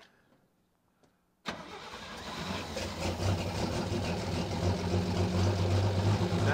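An International Harvester A120 pickup's engine, after sitting for 30 years, cranks and catches around a second and a half in, then settles into a loud, steady rumbling idle up close.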